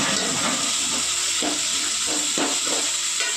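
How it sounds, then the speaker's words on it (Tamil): Sliced onions and lengthwise-cut green chillies frying in oil in a pan for a chicken gravy, a steady close hiss and sizzle with faint clatter, no talking. "அதனால் வெங்காயம், பச்சை மிளகாய் போட்டு நல்லா ஃப்ரை பண்ண போகிறோம்"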